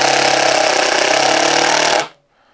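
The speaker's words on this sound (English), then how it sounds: "So we're going to go ahead and drive just some 2-inch screws," A Flex 24-volt compact impact driver, set to speed 1, sinks 2-inch screws with a loud, continuous hammering rattle that lasts about two seconds and then stops abruptly, leaving near silence.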